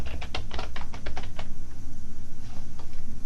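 Fast keystrokes on a computer keyboard, a rapid burst of clicks that pauses and then resumes with a few scattered taps, close and clear over a steady low background hum.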